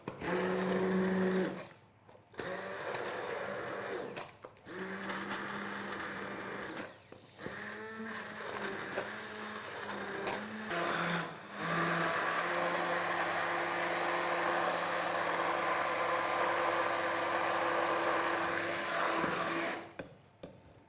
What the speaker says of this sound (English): So get your hand blender ready